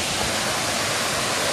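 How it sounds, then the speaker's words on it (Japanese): Kurotaki waterfall in Miki, Japan, roaring steadily in winter, a dense, continuous rush of falling water heard up close with no break. "ものすごい滝や"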